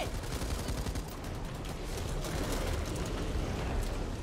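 Sustained gunfire in a video game firefight, a dense roar of rapid shots and blasts that stays steady and fairly loud throughout with no voices over it.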